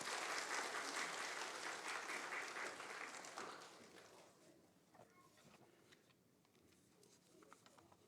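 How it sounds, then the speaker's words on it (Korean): A church congregation claps to welcome the pastor at an Easter Sunday service. The applause is dense at first, then fades after about four seconds into scattered claps and quiet room sound. "우리 박수로 환영하겠습니다"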